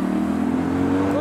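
A Litchfield-tuned Nissan GT-R accelerates out of a roundabout in a business park, its engine note loud and close and rising steadily in pitch as it pulls away.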